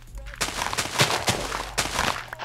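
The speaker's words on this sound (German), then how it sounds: "Ich hab den aber geschlagen, der ist aufs Land und explodiert." Creeper explosions in Minecraft come as a string of sharp, loud broadband blasts over about two seconds, with one more burst at the very end and a steady low hum underneath.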